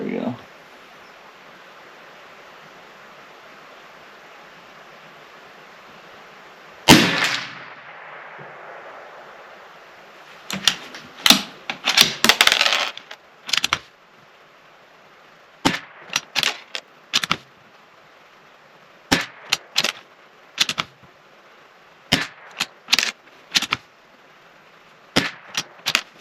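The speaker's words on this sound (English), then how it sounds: "This is the cold bore shot." Shots from a Bergara B-14R .22 rifle firing CCI Standard ammunition at an outdoor range, a single sharp crack followed later by a string of short, spaced reports and clicks. Light wind hiss fills the gaps between them.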